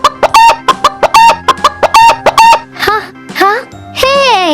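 A hen clucks in a rapid run of sharp, evenly spaced notes, loud and close, then gives a few longer drawn-out squawking calls; it may be a recorded or synthetic cartoon-style sound.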